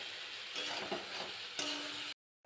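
A spice mixture stir-fried with browned onions in a pan for a black-pepper cashew chicken dish, a steady close sizzle with faint scraping that cuts off abruptly at the end.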